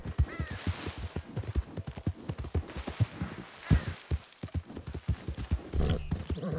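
Horse hooves clip-clop in a quick, steady galloping rhythm in Red Dead Online, with scattered game sounds around them.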